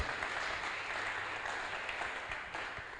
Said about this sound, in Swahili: acha tena tushangilie tena si jina la Bwana kwa makofi na vigelegele